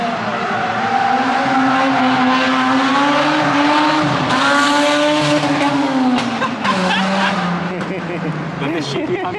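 At the Daikoku car meet, a drifting car lets out a long, loud wavering tire squeal that rises and falls over several seconds alongside engine roar, with crowd voices in the background.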